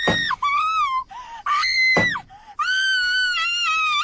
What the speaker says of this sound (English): the girl screams